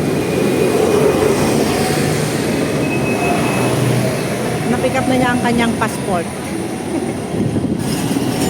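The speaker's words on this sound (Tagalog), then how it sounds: "So kami ay mag-joyride ng tram." A Hong Kong tram from Central to North Point rumbles continuously along its rails with a steady loud roar and occasional squeal, while a person talks over the noise.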